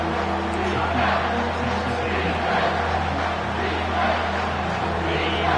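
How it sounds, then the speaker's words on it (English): A steady roar of stadium crowd noise fills a football video game on a third-down defensive play, continuous and loud with broad swelling cheers that rise and fall. "Decibels rising as the crowd gets behind this defense on third down."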